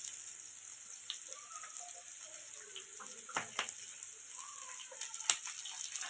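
Paneer chilli ingredients frying in a pan with green chillies, a steady soft sizzle and crackle with scattered small pops, fairly quiet and continuous, no talking.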